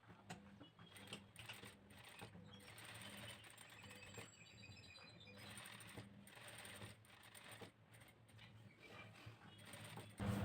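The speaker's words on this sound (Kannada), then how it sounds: "ಅದಕ್ಕೋಸ್ಕರ ಸುಮ್ಮನೆ ಜಸ್ಟ್ ಹಾಗೆ ಸುಮ್ಮನೆ ಸ್ಟಿಚಿಂಗ್ ಮಾಡ್ಕೋತೀನಿ." A sewing machine stitches the closed front neck of a garment in steady rapid bursts, its needle whirring and clattering with short pauses between runs. It is fairly quiet and heard alone with no talk.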